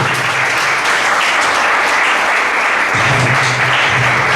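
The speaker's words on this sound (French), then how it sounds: "On applaudit aussi." Audience applause at a children's project presentation event, a dense, sustained round of clapping from a large crowd, loud and continuous throughout.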